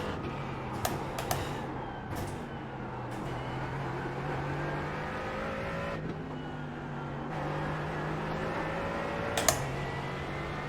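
A GT4 race car on the Imola circuit in the iRacing sim holds a steady, sustained engine drone whose pitch rises and falls through the gears, with a few sharp keyboard-like clicks on top and no talking.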